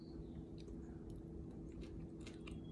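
Close, quiet chewing of curry chicken salad with almonds, soft moist squishing with faint crunchy bites repeating over a low hum, no talk.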